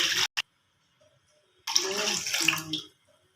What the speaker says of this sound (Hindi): से एबे सेथिरे हमें पानी दे दबा